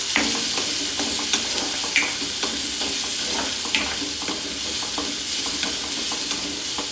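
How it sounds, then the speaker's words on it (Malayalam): Chopped shallots sauté in a pan while a spoon stirs, giving a steady close sizzle with soft scraping strokes and occasional clinks, no voices. "ചെറിയ ഉള്ളി എടുത്ത് അതിനെ ചെറുതായി മുറിച്ച് നന്നായി വഴറ്റിയെടുക്കണം."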